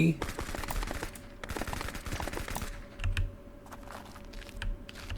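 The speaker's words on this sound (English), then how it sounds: "For fun, let's fire off this UMP." A UMP submachine gun fired from the hip in a video game, crackling out in rapid bursts of shots with a short pause between volleys.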